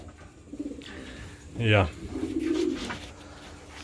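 Racing pigeons returning to the loft after a 150-mile race coo in soft, low, throaty bursts at close range, while a person says a brief word.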